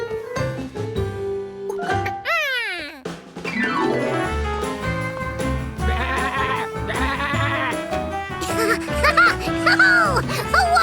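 A goat bleats several times in loud, wavering cries, mixed with busy, lively background sounds.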